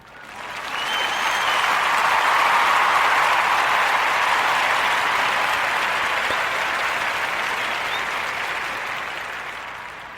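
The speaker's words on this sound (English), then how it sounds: "let's give our sister, Dr. Vanya Pettigrew, a Warm Narrative Podcast, round of applause for all of her accomplishments" Sustained applause from a crowd, a dense wash of clapping that swells up quickly, holds steady for several seconds and slowly fades, with no talking over it.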